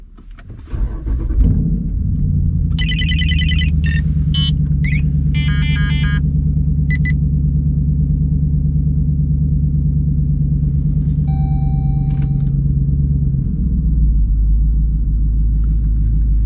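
A Jeep SRT with a solo exhaust cranks and fires into a deep, loud rumbling idle that holds steady, heard from inside the car, with several electronic chimes and beeps sounding over it.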